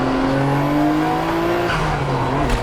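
Nissan Stagea wagon accelerating, its engine note climbing steadily in pitch as it pulls hard, heard from inside close up, then easing off, with a faint squeal toward the end.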